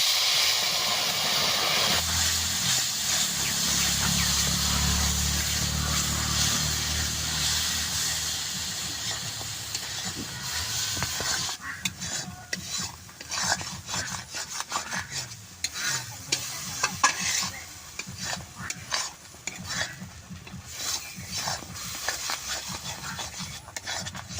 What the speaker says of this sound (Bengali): আমটা যে রস করে রাখছিলাম কড়াইতে দিয়ে দিব।